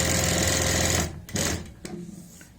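A sewing machine stitches along a garment neckline at a steady run for about a second, then stops, leaving a few quiet handling clicks and fabric shuffles; no talk.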